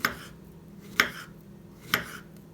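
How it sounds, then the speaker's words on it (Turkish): A knife chops bananas on a board in three crisp, evenly spaced strikes about a second apart, close and clear over a quiet kitchen background. "Muzlarımı doğruyorum."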